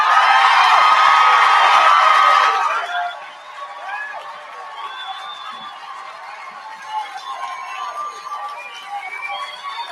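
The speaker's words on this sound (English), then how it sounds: "And the crowd goes wild." A loud crowd roars and cheers for a couple of seconds, then the noise drops away to quieter, scattered chatter and calls.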